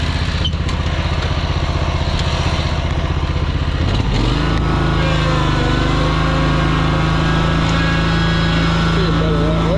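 A lawn mower fitted with Ballard MowChete combat blades runs loud and close, its engine droning steadily, then dipping and settling into a new, steadier pitch midway as the deck is raised.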